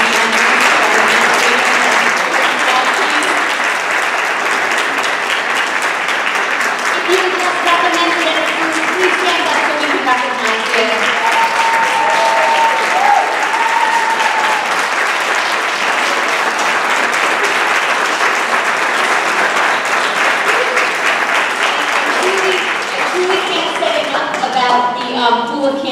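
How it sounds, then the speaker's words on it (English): Sustained applause from the audience at a Lyndhurst board of education meeting, a long, even roar of clapping with voices and speech faintly mixed in underneath. "Can we please have a round of applause for all of you?"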